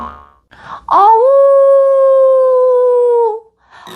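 A voice imitates a wolf howling for a children's Three Little Pigs story, one loud, long, steady howl that rises at the start and drops off at the end, with brief sounds before and after.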